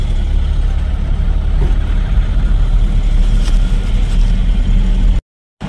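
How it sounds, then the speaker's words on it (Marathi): A car that has just been started and is now driving: a loud, steady engine rumble with road noise, holding constant throughout before a brief cut to silence at the very end. "तर जरा चालू झाली आपली गाडी."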